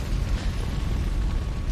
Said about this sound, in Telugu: పెట్రోల్ లీక్ అది పేలిపోయింది